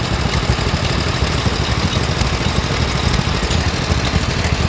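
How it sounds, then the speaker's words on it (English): A Coburn stationary engine driving a water pump at a steam rally, a loud, dense mechanical chug with rapid, even knocking and rattling that runs unbroken and close throughout, no talk heard. "Coburn engine driving"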